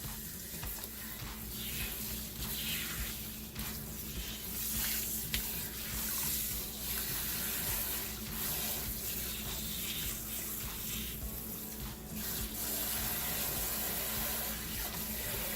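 Tap water gushes into a sink, rinsing dye out of a natural-color hair bundle, a loud, dense, continuous splashing hiss with small fluctuations throughout and no talking.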